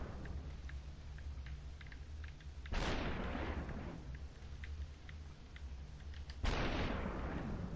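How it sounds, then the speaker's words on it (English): Gunfire from enemies in the video game Superhot, played on a PlayStation 4 Pro: two loud, sharp shot bursts about four seconds apart, each trailing off into a decaying roar over a low background hum, with no talking. "They all start shooting."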